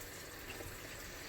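Water running from an RV sink faucet to purge air from the lines, a constant faint rushing hiss with no distinct sputters, no voices.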